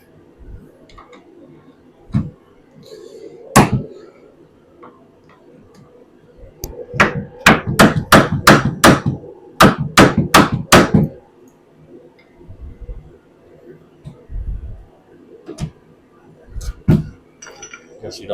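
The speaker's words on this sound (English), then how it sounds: "So let's just see what a screwdriver and a hammer will do." A hammer drives a screwdriver to pry old nailed-on casters off an antique wash stand, with sharp metallic strikes in quick bursts, several fast runs of blows in the middle, and a voice speaking now and then.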